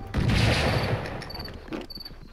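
Shotgun blasts in the Blood and Bacon video game, a loud burst of gunfire at the start that fades into a softer crackling tail, with a few brief metallic clicks toward the end.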